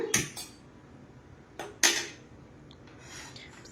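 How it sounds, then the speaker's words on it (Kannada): A pan being set down on a kitchen stove, with a few sharp metallic clanks and knocks close by, followed by quieter rattling and a faint hiss as the stove is switched on. "ಇವಾಗ ನಾವು ಪ್ಯಾನ್ ಇಟ್ಕೊಂಡಿದ್ದೀನಿ. ಸ್ಟವ್ ಆನ್ ಮಾಡ್ಕೊಳ್ಳೋಣ."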